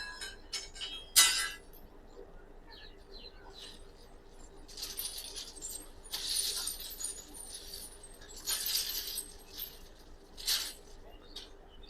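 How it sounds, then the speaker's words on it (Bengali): Ballast stones dumped onto a railway line being readied as platform line 5 at Berhampore Court station, heard as faint, scattered clattering bursts of rock against rock at a distance, over a low background hum. "পাথর ফেলা হচ্ছে।"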